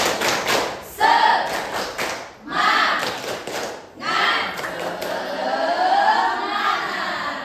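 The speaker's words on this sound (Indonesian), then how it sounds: "Sekarang Ibu mau kasih kalian tepuk semangat." Classroom of schoolchildren doing a rhythmic spirit clap, bursts of group clapping and thumping taps in short patterned phrases separated by brief pauses, with children's voices chanting along in between.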